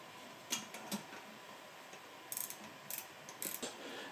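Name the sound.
ratchet tightening bolt on turbo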